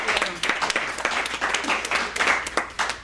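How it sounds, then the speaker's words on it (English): Applause from a meeting audience, a dense, steady patter of many hands clapping throughout at moderate loudness, with no pauses or talk. "Please give her a big round of applause."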